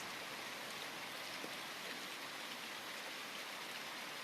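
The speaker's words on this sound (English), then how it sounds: "it happens to be raining outside" Faint, steady rainfall patters on surfaces outside a window on Long Island as an even wash of noise, continuous throughout with no voices.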